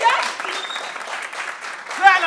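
A theatre audience claps through a staged Egyptian comedy, a steady wash of applause that swells slightly near the end while a voice carries over it.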